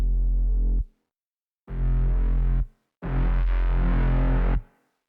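Three bursts of heavily distorted dubstep synth bass made in Ableton Live, a gritty buzzing tone that grows harsher and longer on the final note, separated by short silences.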